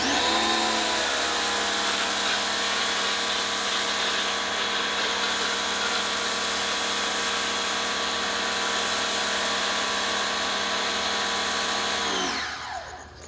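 A foam cannon with a 1.1 millimeter orifice sprays Meguiars Gold Class car wash soap, giving a loud, continuous motorized whine and hiss that holds steady for about twelve seconds before tapering off.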